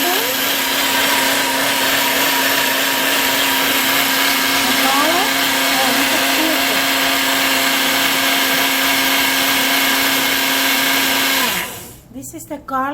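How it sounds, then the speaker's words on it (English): Blender whirring loud and steady as it purees garlic, hot pepper and cream for a cilantro cheese dip, with a constant motor hum that cuts off abruptly near the end. "So we are now blending the garlic."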